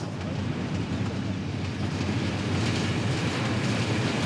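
A French passenger train runs along the rails with a loud, continuous rumble and rushing noise, steady throughout with faint rhythmic clatter underneath, recorded close from on board.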